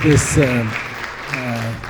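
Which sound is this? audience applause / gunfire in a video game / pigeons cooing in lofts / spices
audience applause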